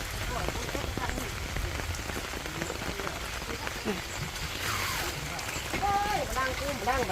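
Steady rain patters and splashes on surfaces in a vegetable garden, dense and close, with a faint voice speaking underneath toward the end.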